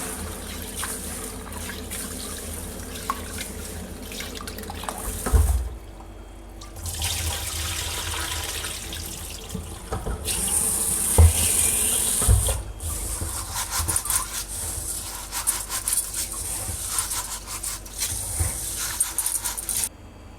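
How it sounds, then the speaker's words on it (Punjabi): Lentils for dal makhani are rubbed and swished by hand in water at home, giving wet sloshing, splashes and rubbing that come in bursts with short pauses, plus a few knocks of the vessel. "ਇਹ ਆਪਾਂ ਨੇ 5-6 ਵਾਰੀ ਪਾਣੀ ਮਲ ਮਲ ਕੇ ਧੋਣੇ ਆ"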